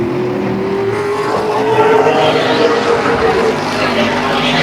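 OSCAAR modified race cars roar around Peterborough Speedway, a loud, sustained engine drone with a slowly shifting pitch as cars pass, and a commentator talks over it.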